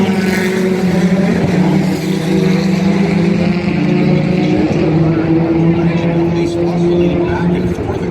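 Mazda Miata race cars roar off the start of a Canada Cup race in Toronto, a dense, sustained engine blare from many cars under continuous commentary.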